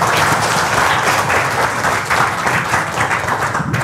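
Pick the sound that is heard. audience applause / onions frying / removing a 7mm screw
audience applause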